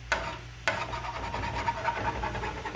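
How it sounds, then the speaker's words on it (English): Residue being scraped off a cooking pan while making beef bourguignon, a close, rough rasping scrape in repeated strokes with two sharp onsets. "make sure and scrape it off first too"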